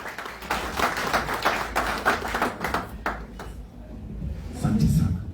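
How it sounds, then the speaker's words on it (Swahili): Audience applause rises at a church committee gathering: a dense, steady patter of many clapping hands for several seconds that thins out, then swells again near the end. "Tumpigie makofi"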